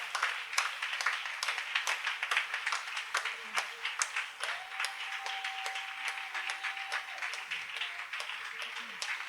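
A church congregation claps in rhythm during worship, giving a dense patter of hand claps under voices and singing, with a sustained ringing tone in the middle.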